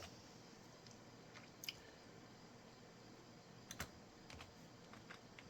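Sparse keystrokes on a computer keyboard while entering a terminal command during an Arch Linux install: a few faint clicks, the clearest around the middle and near the end, over a steady quiet room hiss.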